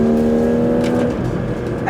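A Porsche 911 GT3 RS engine revs hard on a coastal racetrack, its loud, high, sustained wail shifting pitch near the end while someone talks over it.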